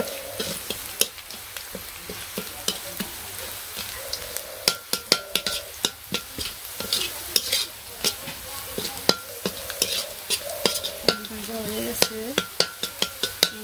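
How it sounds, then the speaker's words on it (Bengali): Onion, dried chilli and cumin fry for dal sambar, a steady close sizzle broken by frequent sharp scrapes and clacks of a spoon stirring in the pan, with a few brief voice sounds in the background. "তো এই যে ডাল সম্বারের জন্য পেঁয়াজ শুকনো মরিচ জিরা এগুলো ভাজা ভাজা করতেছে"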